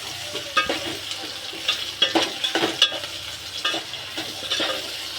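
Vegetables frying in a pan with turmeric and salt give a steady close sizzle, broken by repeated scraping and stirring strokes and a few sharper crackles.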